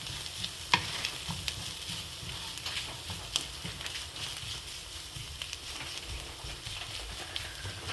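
Grated coconut, small shallots and chilies sauté in oil with a faint, continuous sizzle, broken by occasional light clicks and scrapes from stirring.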